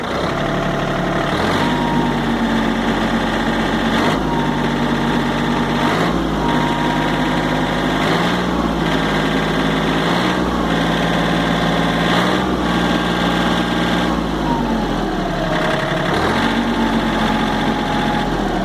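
John Deere 4300 tractor engine idling loudly up close, its throttle repeatedly rising and then falling back, so the engine note surges and drops in a recurring cycle every couple of seconds without any talk.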